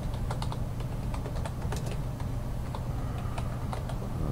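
Steady clicking of keys typed on a computer keyboard at a desk setup with a large monitor, a run of close, quick keystrokes over a continuous low hum.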